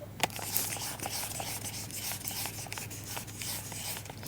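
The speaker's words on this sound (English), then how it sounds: "Let me clean up my camera." Close, soft rubbing and scraping of a cloth against a camera lens, with quiet repeated wiping strokes and a few small ticks, and no talking.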